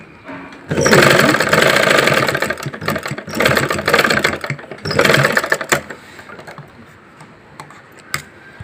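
A sewing machine stitches piping onto a blouse, its needle running in loud, fast, rattling bursts that stop and restart several times before settling into a quiet pause.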